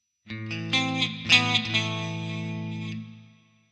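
A single-coil electric guitar plays a clean tone through AmpliTube 5 CS amp software with slight distortion, a strummed chord ringing out with shimmering chorus-like sparkle, a few picked accents, then decaying to silence.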